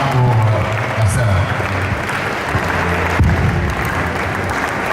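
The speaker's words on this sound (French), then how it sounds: "Give a hand up to the sister." A church congregation claps for a sister during a Sunday service, with continuous dense applause and crowd noise under a loud voice speaking over it.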